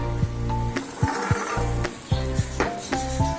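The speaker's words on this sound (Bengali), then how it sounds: "এবার আমি ঢাকনা খুলছি" A pot lid is lifted off a simmering ash gourd curry with coconut, producing several sharp knocks and light scraping clatters at an irregular pace over soft background music.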